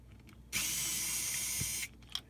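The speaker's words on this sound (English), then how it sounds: "pull these 2 screws out here on the fan. Also, I'm just gonna use this screwdriver" A screwdriver, likely a powered one, removes the fan screws from a Young Living Desert Mist diffuser, giving a single close, steady whirring buzz of just over a second, then a click.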